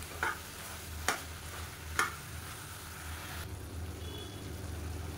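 Chicken sizzles quietly in a pan while a spoon scrapes through it three times in a slow rhythm, then the steady frying continues alone.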